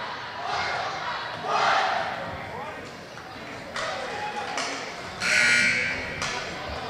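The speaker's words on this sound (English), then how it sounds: "Cheering to the student section." Student section crowd at a boys' high school basketball game yelling and cheering in broad swells, with a few louder bursts rising above a steady gym din; voices shout throughout.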